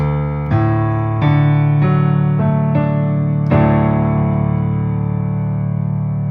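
A series of sustained piano chords, each struck with a sharp onset about every second and ringing on, the last one fuller and left to sustain.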